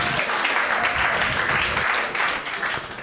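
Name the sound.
audience applause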